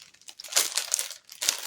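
Plastic packaging crinkles and rustles close by in irregular bursts, with a few sharper crackles as it is handled.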